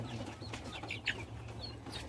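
Joper chickens in a simple backyard coop give a few soft, scattered clucks and short calls over a low, steady background hum, with no talking.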